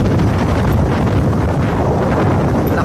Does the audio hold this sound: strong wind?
yes